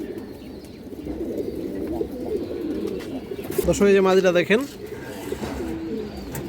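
Caged pigeons at a farm coo softly in the background while someone talks close by; one fuller, rolling coo rises clearly near the middle.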